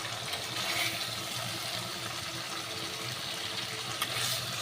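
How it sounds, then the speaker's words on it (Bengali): Water poured into a cooking pot of rohu fish curry with bottle gourd greens: a steady, close splashing and gushing pour that runs evenly for several seconds with no talking. "এবার আমি জল দেব।"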